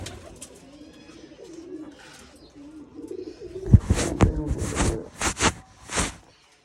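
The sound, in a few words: pigeons cooing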